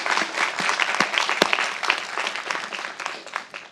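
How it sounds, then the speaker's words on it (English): An audience gives steady applause at a fireside chat event, dense clapping throughout at moderate volume, with no talking over it. "So if we could please give them a round of applause to say thank you for all their hard work."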